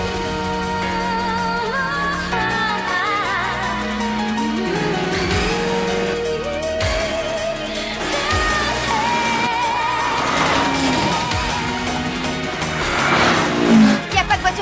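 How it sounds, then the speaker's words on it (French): Anime street race from Initial D, with car engines revving and shifting pitch continuously, a couple of quick tire-squeal-like sweeps, and background music and French dialogue running alongside. "ils sont en train de faire une course"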